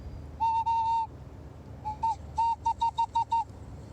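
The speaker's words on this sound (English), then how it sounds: "bird whistle." A pitched whistle sounds in bird-like bursts: two longer tones, then a quick series of short chirping toots, close and clear.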